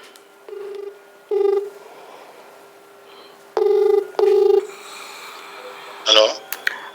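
A phone call is dialed: several short bursts of keypad tones sound close and clear with pauses between them, followed by a ringing tone on the line.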